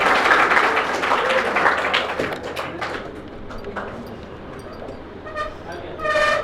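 An audience at a school valedictory function applauds the chief guest, Rooma Devi, as she is invited onto the stage. The clapping is moderate and fades over several seconds, with a few tonal blips near the end.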